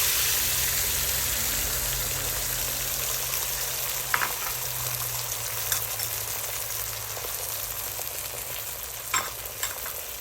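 Eggs sizzle in butter in a pan for a family breakfast, a steady crackling hiss with a few light clicks of a utensil stirring them for scrambling.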